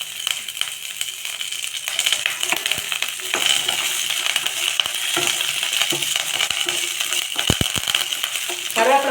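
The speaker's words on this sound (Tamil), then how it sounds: "இப்போ கருவேப்பிலை போட்டுக்கலாம்." Curry leaves sizzle steadily in hot oil while semiya kichadi is cooked, a constant bright frying hiss with a few small clinks of a utensil near the end.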